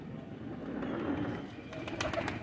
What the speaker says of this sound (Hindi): सलारा टैडी कबूतर है दोस्तों।